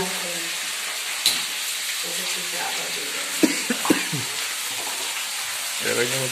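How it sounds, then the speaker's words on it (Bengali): Vegetable curry with eggplant and ridge gourd cooking in a pan sizzles steadily, with a few clinks of stirring and a voice talking briefly at the start and end. "তরকারি রান্না হচ্ছে, বেগুন টেগুন ঝিঙা ফিঙা দিয়ে তরকারি"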